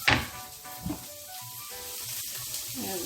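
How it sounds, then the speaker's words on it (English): Onion sizzles and hisses steadily in a pan of simple tomato sauce over medium heat, a soft continuous frying sound with a brief louder crackle at the start. "we are going to cook it for about 10 minutes or until the onion is translucent"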